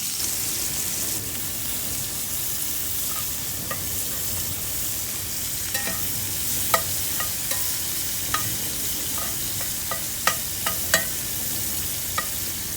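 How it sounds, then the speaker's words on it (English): Shrimp seasoned with salt and pepper sizzle in a cast iron pan on a grill, a steady close frying hiss with occasional sharp pops and utensil scrapes, no talking. "We're gonna cook those up in the cast iron also"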